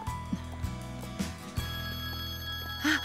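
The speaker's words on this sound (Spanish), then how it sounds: "Espera, el teléfono." A telephone bell rings indoors at home, a steady repeating ring with soft background sound beneath it.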